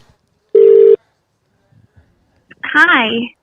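Phone call ringing tone heard over a Bluetooth connection in a radio studio, a single short steady electronic ring burst, then a brief pause before a voice begins speaking.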